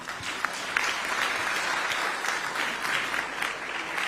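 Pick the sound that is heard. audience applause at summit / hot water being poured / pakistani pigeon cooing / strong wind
audience applause at summit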